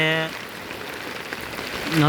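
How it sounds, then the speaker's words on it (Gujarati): Heavy rain pours steadily on an open farm field in Brahmpara village, a dense, continuous wash of patter. A voice is heard briefly at the start and end. "આમ જો આમ જોઈ શકો છો વરસાદ કેટલો બધો છે બ્રહ્મપરા ગામમાં"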